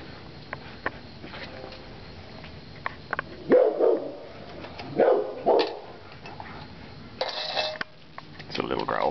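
Koda the dog growls low and briefly over food in two or three short rumbling bursts near the microphone, with faint dish and utensil clatter in a quiet room.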